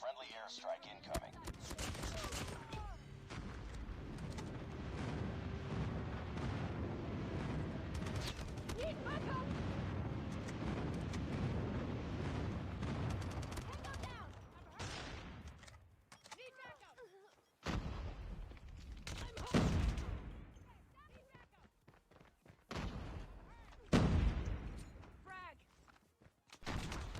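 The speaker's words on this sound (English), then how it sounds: "Friendly airstrike incoming." Rapid gunfire and heavy airstrike explosions from a Call of Duty-style multiplayer hardpoint match, dense booming blasts and bursts throughout, with a commentator and in-game announcer talking over the action.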